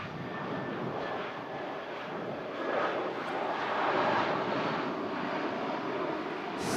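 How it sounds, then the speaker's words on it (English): EasyJet Airbus A320 jet airliner landing at Manchester Airport, a broad steady roar of engines at a distance that swells slightly midway, with some wind noise. "coming in from Milan. EasyJet flight 3835. It's an Airbus A320."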